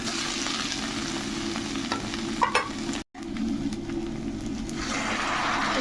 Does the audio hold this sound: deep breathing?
no